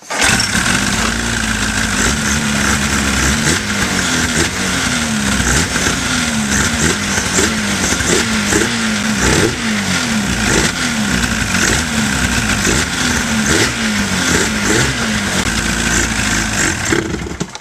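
A snowmobile engine, freshly fogged for summer storage, runs on half choke with a loud, continuous, slightly uneven idle throughout, close by and with no talk.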